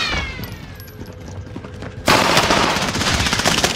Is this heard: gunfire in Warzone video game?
yes